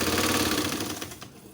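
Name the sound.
sewing machine stitching soft cotton baby nightie piping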